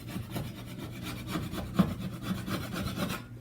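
A putty knife scrapes paint off a wall in steady, close rasping strokes that run continuously and fairly loud, with no talking.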